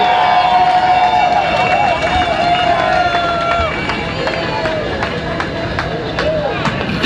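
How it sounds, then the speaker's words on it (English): Rally audience at a home care workers' union event cheers and applauds steadily, a loud wash of claps and whoops with a crowd murmur underneath. "Let's give him one more round of applause to Hakeem Jeffries"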